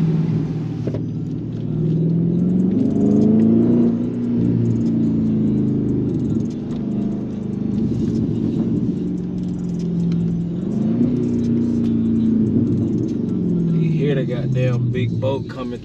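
A Dodge Scat Pack with a Whipple supercharger rumbles past, its deep engine note swelling and easing as it drives by, while someone talks loudly over it nearby.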